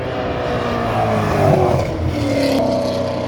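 A Chevrolet Corvette drives past with a steady engine drone that rises and shifts in pitch as it goes by, fairly loud and close.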